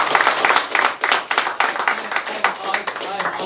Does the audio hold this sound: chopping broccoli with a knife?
no